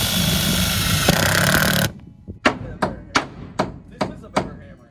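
Building an off-grid cabin, a hammer strikes wood about eight times in a steady rhythm, sharp and close. The blows come after a short burst of loud, broadband machine-like noise.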